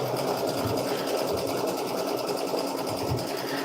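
An embroidery machine stitches a line across fabric held in a hoop, giving a steady, fast, continuous mechanical whirring with regular needle chatter, close and alone.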